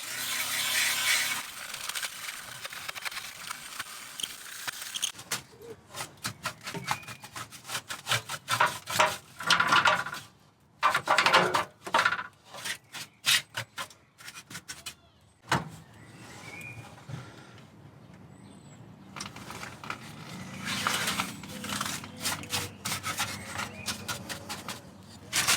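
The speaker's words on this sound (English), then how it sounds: "So we're going to give it a quick wire brush." Quiet bursts of scratchy back-and-forth wire brushing on a rusty part of a Honda Civic Type R FN2. The scrubbing comes in uneven strokes separated by brief pauses, close by, with no talk.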